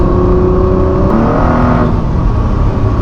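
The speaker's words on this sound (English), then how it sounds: "it might not be much fun for your passenger when you keep stabbing the throttle like that" A Ford GT sports car engine revs hard on French country roads near Le Mans, a loud, steady roar with a quick downshift and throttle blips partway through, close up.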